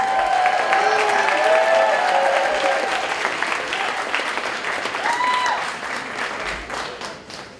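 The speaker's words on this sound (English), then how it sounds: "Let's get a round of applause going for Stuart!" An audience at a live talk event applauds and cheers, dense loud clapping with whoops and whistles at the start, gradually thinning out over several seconds.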